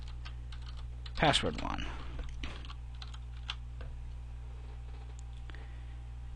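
Close, quick clicks and taps come from typing on a computer keyboard, with a short voice sounding near the start and light keystrokes continuing until the end.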